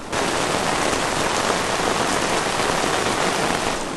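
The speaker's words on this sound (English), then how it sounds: "It's raining really hard" Heavy rain pours down steadily at a campsite in Duluth in fall, a dense continuous hiss of drops hitting surfaces close by, loud and unbroken throughout.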